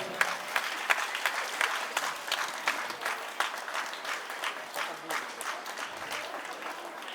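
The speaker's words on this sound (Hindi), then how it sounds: "सबको जोरदार तालियों के साथ धन्यवाद ज्ञापन करेंगे" Audience applause at a school annual cultural function, a steady wash of clapping from a large crowd in a hall, sustained throughout with slight swells and no talk over it.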